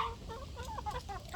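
A four-month-old black diamond rooster clucks softly in a quick run of short, close, low-pitched calls over faint background noise.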